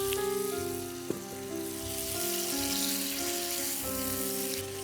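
Boneless chicken breast from Kazi Farms Kitchen sizzles in a frying pan for haleem, a steady close hiss running throughout beneath sustained musical tones.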